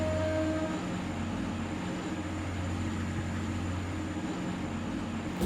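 A train departs a station in the Roblox game Stepford, giving a steady, continuous rumble and hum with a faint tonal whine and no talk.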